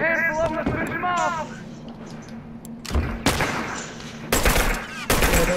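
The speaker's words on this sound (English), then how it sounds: "that was the last shot" Gunfire in the video game The Last of Us Remastered: several sharp, loud shots crack out in a broken burst toward the end, with tonal game sounds and voices near the start.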